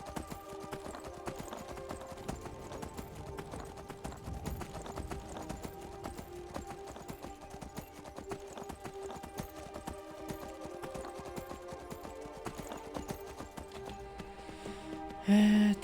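Horse hooves clip-clop steadily in the video game Skyrim, a continuous even trot lasting the whole stretch over soft background music, ending in a brief tonal blip.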